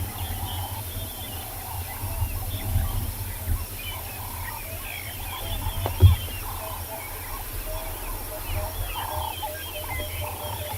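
A crackling, chattering electrical buzz from overhead power lines on a South African safari reserve, steady and continuous, with a low hum underneath; the irregular chirps resemble distant birds.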